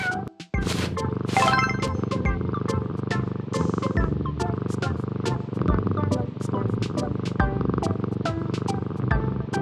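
A cartoon cat purrs steadily while being cleaned, a low rhythmic rumble under bright background music with a few sharp accents.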